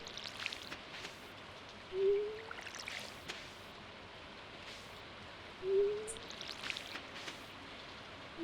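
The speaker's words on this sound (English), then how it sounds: "Especially with it raining" Steady soft rainfall hisses throughout in a farming game, with two brief tonal blips rising above the patter at regular intervals; no voices.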